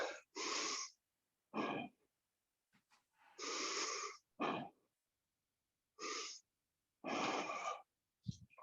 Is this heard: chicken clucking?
no